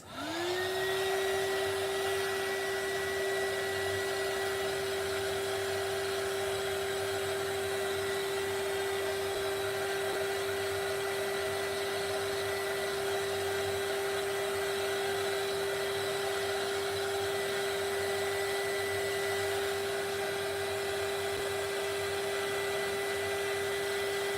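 Heat tool blowing steadily to set watercolor pencil coloring on a floral page, a loud continuous whirring hiss with a sustained whine that holds unbroken for the whole stretch.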